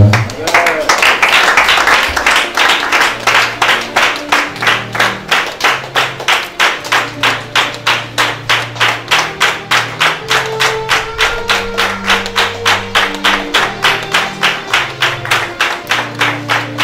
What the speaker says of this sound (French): nous continuons à applaudir le Seigneur